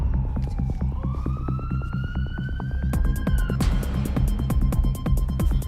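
Ambulance siren wailing near a college, a steady rising electronic tone over a throbbing engine-like pulse, shifting to a harsher, louder pattern partway through.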